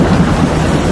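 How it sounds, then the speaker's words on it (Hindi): A Mahindra Thar off-road vehicle pushes through a water crossing, with a dense, steady wash of rushing and splashing water over a low rumble, close and loud throughout. "और ये देख लीजिए वाटर क्रॉसिंग"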